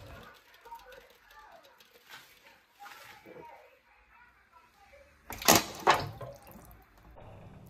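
Quiet background sounds in a school science lab, then a hot can plunged into cold water gives two sudden loud crackling bursts close by as it crushes.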